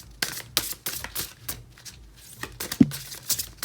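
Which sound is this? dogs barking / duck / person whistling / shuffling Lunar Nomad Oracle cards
shuffling Lunar Nomad Oracle cards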